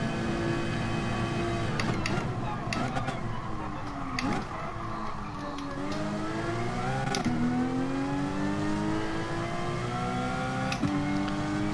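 A race car engine in the Gran Turismo Sport video game, revving hard through repeated climbing gear pulls with sharp drops at each shift, loud and continuous throughout.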